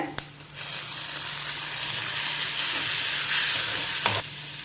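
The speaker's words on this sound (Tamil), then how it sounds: "வெங்காயம் நல்லா பொன்னிறமாக வதங்கிடுது தக்காளி சேர்த்துக்கிறேங்க" Tomatoes and onions fry together in a pan for a potato stir-fry, a steady hissing sizzle that swells after a brief pause, with a few utensil knocks near the end.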